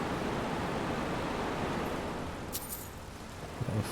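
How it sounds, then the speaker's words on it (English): Rushing water roars in a continuous, dense wash of noise in the Skyrim game world, steady and enveloping with a faint clatter near the end. "I can hear a lot of water somewhere."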